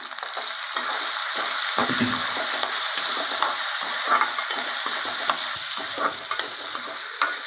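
Beaten rice upma ingredients sizzle in a hot pan while a utensil scrapes and stirs through them in irregular strokes, close up and continuous.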